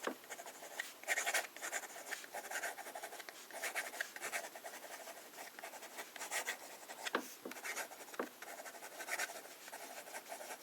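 A fountain pen filled with Diamine Oxblood ink writing on cheap paper, close and quiet, with soft scratchy strokes in uneven bursts and brief pauses between words, no talking.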